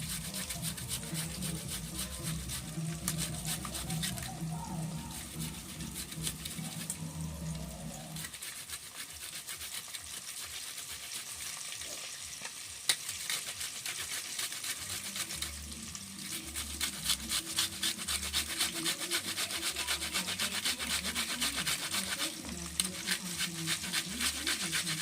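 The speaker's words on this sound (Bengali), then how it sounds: "মশলাটা মিক্সারে দিলাম না, হাতে বেটে করবো।" Spice paste of ginger and garlic ground by hand, heard as a long run of rhythmic rubbing and scraping strokes, close and fairly quiet, with a short pause partway through.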